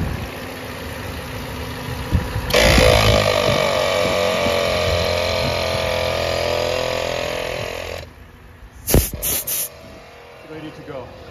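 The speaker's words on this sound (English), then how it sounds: "there's a switch to power on the compressor right here." An ARB onboard air compressor used for inflating tires switches on with a sudden loud buzzing hum, runs steadily for several seconds, then cuts off, followed by a few sharp clicks and brief hissing bursts.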